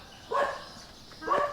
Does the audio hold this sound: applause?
no